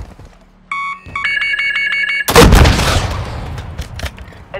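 Armored helicopter in Call of Duty Warzone opening fire on players: a sharp, loud burst of gunfire erupts after electronic alarm-like beeping tones, then decays into rumbling, scattered impacts.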